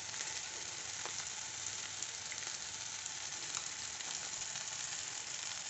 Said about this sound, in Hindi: हमारा मसाला भून रहा है